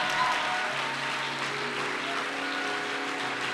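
A church congregation applauds and acclaims in sustained, dense clapping mixed with faint cheering voices, steady and moderately loud throughout, with a held tone ringing underneath.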